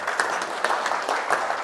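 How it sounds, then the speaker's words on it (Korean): An audience gives sustained applause at a farm management seminar, with dense overlapping claps that swell in rhythmic pulses. "박수 부탁합니다."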